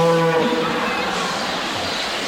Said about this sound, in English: Do you like the mooing sound of cows?